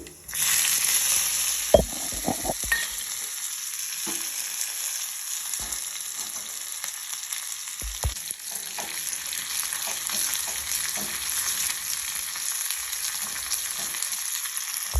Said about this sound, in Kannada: ಸಾಸಿವೆ ಚಿತ್ರಿತಾ ಇದೆ ಇದಕ್ಕೆ ಹಸಿಮೆಣಸಿನ್ಕಾಯಿ ಕರಿಬೇವು ಹಾಕ್ತಾ ಇದ್ದೀನಿ